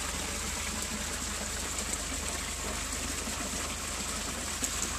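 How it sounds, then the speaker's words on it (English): A pond waterfall pours in a steady, continuous rush of falling water, moderately close and even throughout, with no voices. "That's a good shot of the waterfall."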